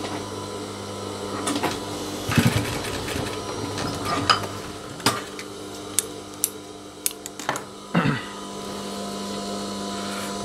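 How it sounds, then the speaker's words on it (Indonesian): A sewing machine stitches a jeans waistband up close, giving a steady low motor hum broken by irregular clicks and knocks, while a person talks over it. "Jadi ketika menjahit itu langsung kita dari ujung sampai ke bagian ujung."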